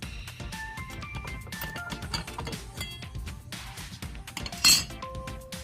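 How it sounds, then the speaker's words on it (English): An electrical outlet cover is taken off, giving a scatter of small close clicks, taps and light clinks of plastic and metal with one sharper knock near the end. "here we're going to take off the outlet cover"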